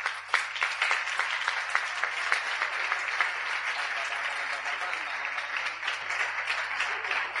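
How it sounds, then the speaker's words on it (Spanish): Audience applause at a Spanish-language talk, a steady wash of many hands clapping that fills the whole stretch at an even, fairly loud level with no voices standing out. "Un aplauso para el miocito."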